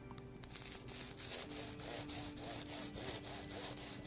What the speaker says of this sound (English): now I'm just gonna trim the ends of the pastilla.